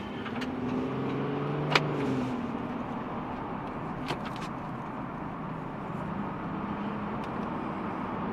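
A 2019 Nissan 370Z Nismo engine drones steadily from inside the cabin, a constant rumbling road and motor noise with a couple of faint clicks, no clear revving surge.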